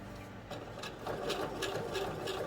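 A sewing machine runs slowly, top stitching a modified Lauren bag. It makes a steady mechanical whir with faint repeated needle ticks, moderately close, and grows a little louder after the first second.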